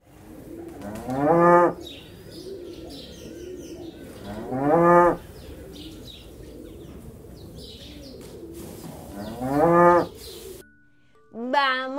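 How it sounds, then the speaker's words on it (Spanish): A cow moos three times in long, drawn-out calls spaced a few seconds apart, standing out over a steady low background hiss, with a short higher-pitched tonal sound at the very end. "Así hace la vaca. Mu, mu."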